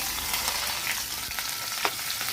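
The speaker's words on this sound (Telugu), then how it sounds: "కొంచెం యాగనివ్వండి ఉల్లిపాయలు" Curry leaves and chopped onions frying in hot oil, a steady close sizzle with a few sharper crackles and stirring scrapes, no voices.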